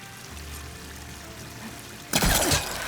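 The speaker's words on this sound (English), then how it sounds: "The waterfall must be coming from somewhere." A waterfall in the video game Horizon Forbidden West: low, quiet ambience gives way to a sudden loud rush of falling water that swells in close and stays steady to the end.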